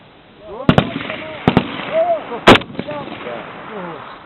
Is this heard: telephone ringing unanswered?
no